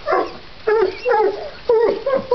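A coon hunting dog bays at a raccoon holed up in a cave, giving four loud, close, drawn-out barks and howls spaced about half a second apart.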